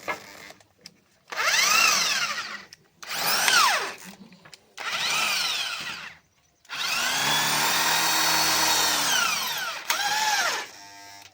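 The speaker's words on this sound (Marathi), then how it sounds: "आपण स्क्रू इथं ह्याच्यामध्ये स्क्रू टाकत आहोत" A power drill drives screws into a chick shed platform in several separate bursts, its whine rising and falling in pitch, loud and close, with short pauses between and no talking.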